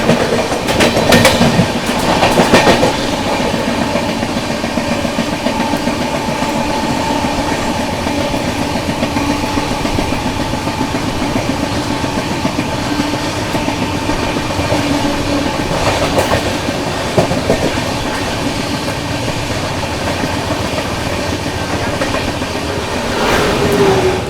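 Howrah Rajdhani Express overtaking the Bhavnagar–Asansol Parasnath Express at Naini Junction, heard as a loud continuous rumble of rolling coaches with clickety-clack of wheels over rail joints, steady and close throughout.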